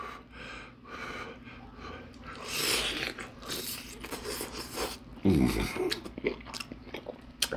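Crisp bites crunch into a fried birria egg roll up close, followed by repeated chewing, breathing and a loud crunch midway, with no talk over it.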